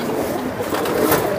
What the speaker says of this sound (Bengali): এটা হচ্ছে পুরানো লাইনের নর কবুতর